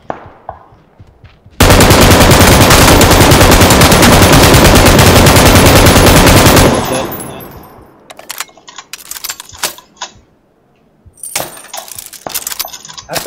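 Machine gun fire in a shooter video game pours out in a loud, dense sustained burst for several seconds, then gives way to scattered single shots and impacts.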